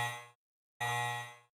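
A bell in the survival horror game Resident Evil Code Veronica rings twice, loud and close. Each bright metallic strike is followed by a ringing tail that fades, with a short silent gap between them.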